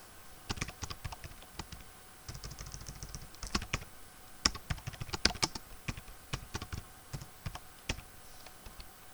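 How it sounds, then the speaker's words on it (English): Someone types on a computer keyboard nearby in quick, irregular bursts of crisp key clicks with short pauses, quiet overall with no talking. "we have to just type the google.com"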